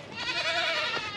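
A single goat bleats close by, one short wavering call heard alone at moderate volume.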